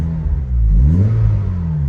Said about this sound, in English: it's ticking over just nicely